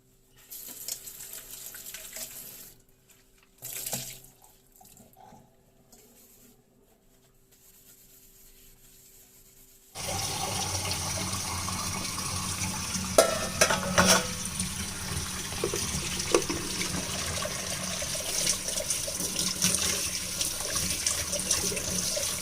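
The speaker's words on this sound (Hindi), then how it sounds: "और इसको पानी भर देती हूँ।" Water from a kitchen tap runs into a vessel as it fills, a steady loud broadband rush that starts abruptly partway through and continues to the end after quieter handling noises.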